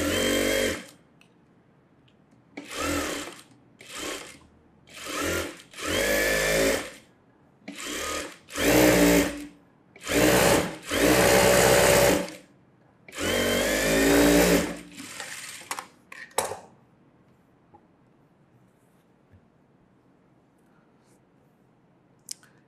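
A sewing machine stitches a fancy blouse in a series of quick, loud whirring bursts of varying length, with short pauses between them, before falling quiet.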